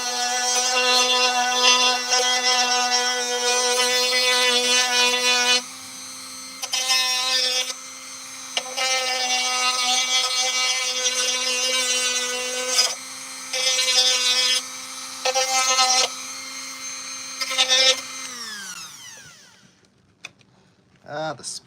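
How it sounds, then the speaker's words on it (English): A Dremel rotary tool with a sandpaper bit sands plastic, making a steady high whine that keeps changing in pitch as it bites and lets up, then slows and winds down near the end, close and loud. "So Dremel with my sandpaper little end on there, and I'm just going to take up these pieces to kind of flatten this out"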